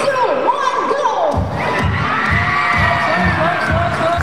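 A crowd of fans screams and cheers loudly at a live signed fan event, sustained high-pitched shrieks and whoops with rhythmic thumping beneath, close and continuous.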